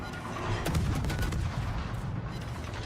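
Warship guns fire high-explosive shells in World of Warships, a loud booming salvo with rolling, rumbling echoes over a sustained low roar. The sound is close and unbroken, with no talk.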